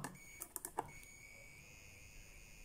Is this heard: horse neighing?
no